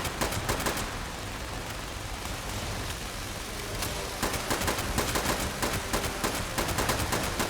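Gunfire rattles in Fallout 76 as dense, continuous automatic bursts. Loud, rapid cracks repeat over a busy, noisy bed.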